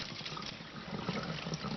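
Beef ribs for Korean galbi rinsed under running water: a steady stream splashing and gurgling over the meat, with slight shifts as the pieces are handled, close and continuous, no talking.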